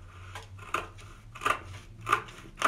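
Cheap dollar store scissors cutting fabric, a series of short crisp snips spaced roughly evenly, close and moderately quiet over a faint low hum.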